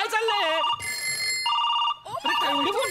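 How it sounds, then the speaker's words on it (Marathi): Several telephones ring at once on a comedy show stage, loud electronic bell tones repeating in overlapping bursts, while voices talk and exclaim over them. "एवढे फोन का वाजतायत?"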